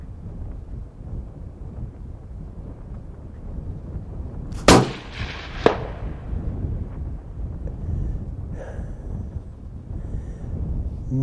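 A 6.5 PRC rifle fires once at a coyote target around 300 yards out at high altitude, a sharp loud crack followed about a second later by a fainter thump of the impact, over steady wind noise.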